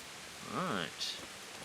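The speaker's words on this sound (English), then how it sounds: "sounds like it's pissing down rain at the moment" Heavy rain pours in the medieval world of Kingdom Come: Deliverance as a faint, steady hiss. A brief rising vocal sound stands out over it partway through.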